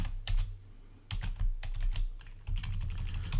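Quick bursts of typing on a computer keyboard while writing code, clustered keystroke clicks coming in irregular runs with short pauses between them, close and fairly quiet, no talking.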